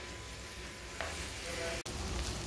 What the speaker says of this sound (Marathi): तुम्ही बघत असाल कांदा आता फ्राय होत आलेला आहे जरा चांगला